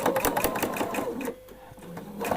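Sewing machine stitching a seam on a dress, a fast steady needle patter that runs close and loud, stops briefly, then starts again at the end.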